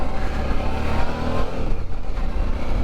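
A Suzuki V-Strom 650 motorcycle engine while riding, a steady loud drone with wind rush throughout, heard close and continuous with no talk.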